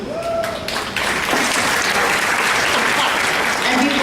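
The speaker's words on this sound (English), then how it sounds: "please hold your applause to the end because we have a long list" Audience applause at a school graduation ceremony, dense, loud and sustained clapping from a large crowd filling the hall, with a brief voice near the start.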